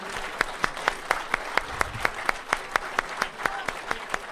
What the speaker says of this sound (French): je vous remercie capitaine, on peut encore l'applaudir